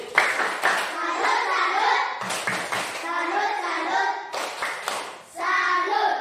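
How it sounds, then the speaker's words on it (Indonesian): A classroom group of children does a rhythmic salute clap, with sharp bursts of hand claps in patterned sets separated by short gaps. Children's voices chant and call along with the clapping. "Oke, tepuk salut untuk Anda dulu."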